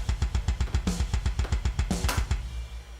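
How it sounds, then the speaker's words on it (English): EZDrummer2 metal kick and snare crushed by heavy parallel compression and limiting, hitting at equal level in a fast steady pattern, with two brighter crash-like bursts before the drums cut off near the end. "take a limiter and crush the signal down so the kick and the snare are hitting at the same level"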